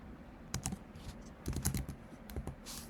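A computer keyboard clatters as Python code is typed, quiet irregular clusters of key presses close by with short pauses between.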